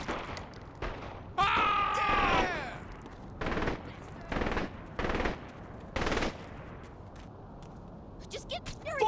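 Bursts of video game gunfire, several separate blasts spread across the clip, with a gasp or groan near the start and quieter stretches between shots.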